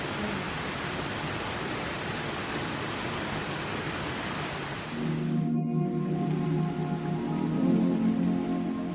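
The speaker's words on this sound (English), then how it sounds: "I don't know when the last time was that I ever saw it rain this hard." Heavy, dense torrential rain roars continuously near Ayr in South Ayrshire, Scotland, then a deeper droning hum rises beneath it partway through.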